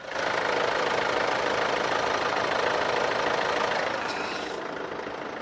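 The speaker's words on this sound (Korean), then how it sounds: "바로 엔진 소리 한번 들려드릴게요." A Mercedes E-Class petrol engine idles with a steady, smooth hum at an even level, fading slightly toward the end.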